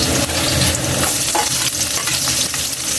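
Sliced onions hit hot oil in a pan where garlic has already fried golden, giving a loud, steady, crackling sizzle with scraping stirring throughout and no talking.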